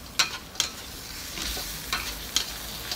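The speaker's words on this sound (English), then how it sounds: "Then time to put the fried tofu." Fried tofu gets stirred into a pan with minced pork and black beans: sharp scraping clicks of the utensil recur every half second or so over a low, continuous sizzle, with no voices.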